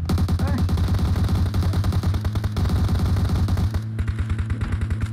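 Rapid bursts of automatic gunfire crackle in PUBG Mobile, loud and continuous for several seconds before thinning into sparser shots, with faint voices beneath.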